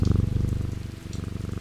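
Cat purring in the video game Strange Antiquities, a steady close rumbling purr with a regular pulsing rhythm, running alone throughout.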